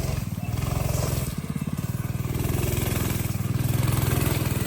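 A homemade go-kart built from $350 of marketplace parts races around a backyard racetrack, its small engine buzzing loud and steady close by as the revs rise and fall slightly.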